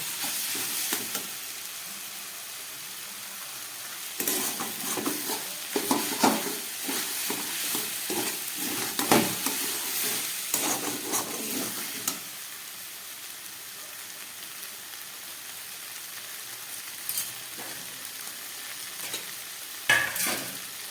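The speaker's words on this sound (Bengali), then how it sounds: "এবার এটাকে নেড়ে নেড়ে নেড়ে একদম শুকনো করে ফেলতে হবে" Chopped banana stem stirs and fries in a pan, giving a soft steady sizzle broken by bursts of scraping and clattering from the stirring, heard close with no talking.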